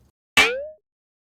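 Single sharp percussive hit from the Sophie Percussion 5 sample, transposed up one semitone, with a bright plucky attack that bends upward in pitch before quickly decaying, isolated in silence.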